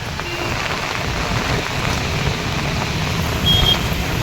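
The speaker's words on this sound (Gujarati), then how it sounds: "અને પડી રહ્યો છે વરસાદ" Heavy rain pours down steadily in Dindoli, Surat, in a dense, continuous hiss, with a faint brief tone near the end.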